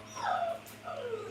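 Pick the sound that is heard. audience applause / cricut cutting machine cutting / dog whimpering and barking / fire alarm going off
dog whimpering and barking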